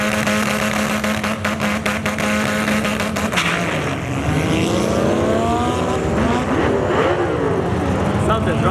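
Car engine accelerating hard, a loud close roar with rising and falling gear-change tones and shifting pitch sweeps, a brief dip near four seconds, over constant noise with people talking.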